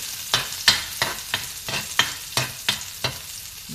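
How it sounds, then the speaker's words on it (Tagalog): Garlic sizzles in hot cooking oil while a utensil stirs and scrapes the pan in about nine quick, regular strokes. The sound is close and clear, with no talking. "tayo ay mag-umpisa na natin gisahin ang ating bawang"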